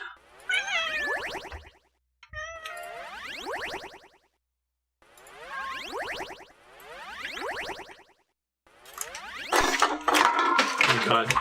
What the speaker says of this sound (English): Oh god, kitties.